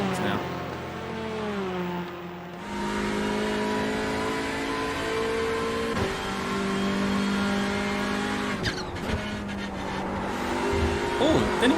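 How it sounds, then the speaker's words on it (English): A race car in the iRacing sim drones with steady engine pitch, falling and rising through gear changes and a sharp shift near the end, heard from onboard and loud throughout. "did anyone hear that downshift?"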